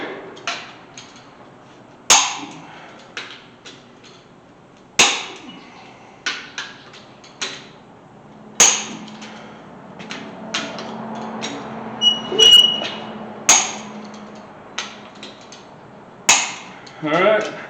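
Torque wrench clicking as inline-six cylinder head bolts on a Chevy C10 Squarebody engine are tightened, a series of sharp, close clicks at irregular intervals with small metallic ticks and shop noise between.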